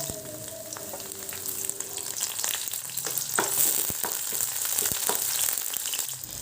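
Onion and green chilli frying in a little oil for a fish curry, a steady close hissing sizzle with scattered crackles and occasional stirring clicks throughout, no voices.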